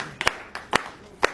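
Scattered, sparse hand claps from a small gathered group at a car gift handover, a few separate quiet slaps spread across a brief moment.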